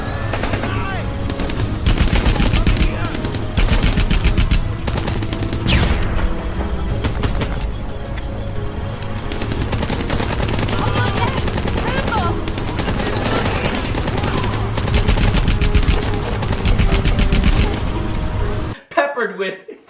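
Rapid gunfire and explosions from Rambo: The Video Game, an on-rails arcade shooter, loud and sustained with dense bursts throughout, layered with music and game effects, cutting out abruptly near the end.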